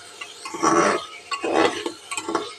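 A spoon stirs egg curry with chicken masala in a pan, making loud, close scraping and clinking in a few separate sweeps with a faint sizzle beneath, and no talk.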